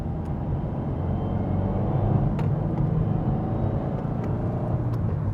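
A Subaru WRX fitted with an STI 6-speed swap drives along a dirt road, its engine giving a steady low rumble with road and tyre noise and a few faint ticks, loud and close from inside the cabin.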